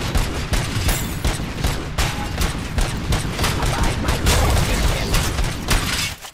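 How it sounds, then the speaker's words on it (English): Sustained rapid gunfire in the Robocop: Rogue City video game, a loud, nearly continuous barrage of close shots and impacts with no let-up. "That's a lot of shots."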